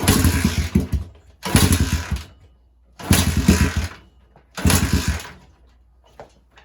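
A 1979 Honda XR80 motorcycle that sat unused for a year is kicked over in four separate bursts, its small engine catching and sputtering briefly each time before dying out, close and fairly loud.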